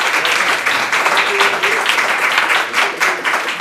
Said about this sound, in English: you may applaud now